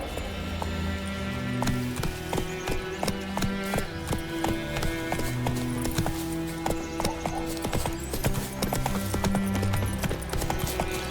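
Roach the horse galloping in The Witcher 3, rapid rhythmic hoofbeats close and steady throughout, with music playing underneath.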